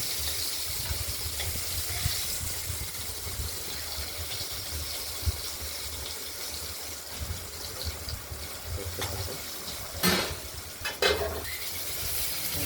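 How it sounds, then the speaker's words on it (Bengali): Cut potatoes lightly frying with spices in a pan for a bata fish curry: a steady, soft sizzle throughout, with a couple of brief louder stirring scrapes near the end. "আলুগুলো আমরা এই মশলার সঙ্গে ধরে নেব একটু হালকা ভেজে নেব"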